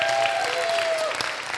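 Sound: church congregation applause

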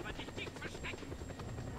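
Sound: helicopter in video game Just Cause 2

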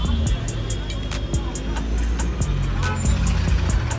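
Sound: road traffic in a jam, cars and trucks

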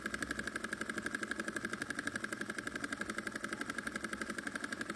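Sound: miniature Dongfeng diesel engine running at low throttle

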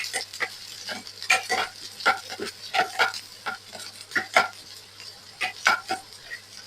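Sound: onion and garlic frying and being stirred in a pan

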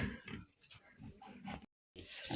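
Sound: pigs grunting

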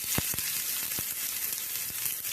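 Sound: mustard seeds and curry leaves frying in oil

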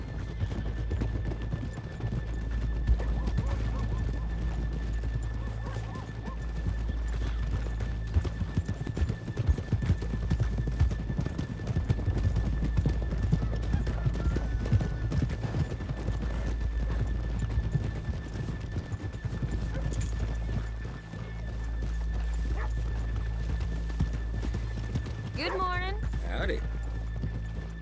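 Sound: horses trotting and neighing in video game Red Dead Redemption 2

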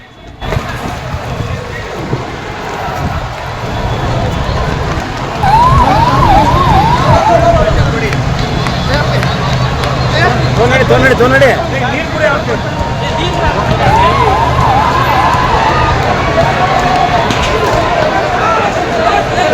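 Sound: ambulance siren

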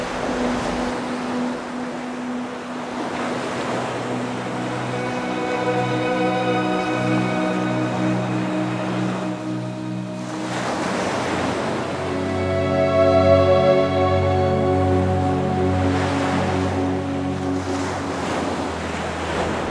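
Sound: ocean waves coming in at Oregon beach

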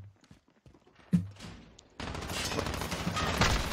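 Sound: gunfire in video game Call of Duty Modern Warfare

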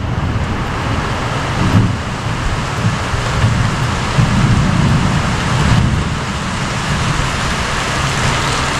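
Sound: rain falling

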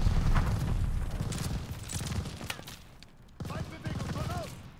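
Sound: gunfire in video game Call of Duty: Vanguard

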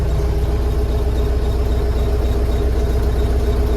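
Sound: Scout 404C tractor engine idling while warming up

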